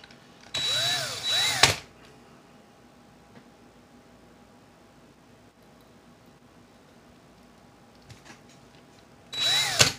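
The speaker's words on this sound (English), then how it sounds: "is I'm going to put one end into my drill again." A power drill spins to twist wire for vape coils, with two loud bursts of whirring, one near the start and one at the end, separated by a long quiet stretch.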